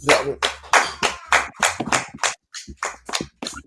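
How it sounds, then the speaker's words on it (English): A class claps in bursts at a gathering, a series of separate sharp rounds of hand claps, close and fairly loud, with short gaps between them. "Clap it up"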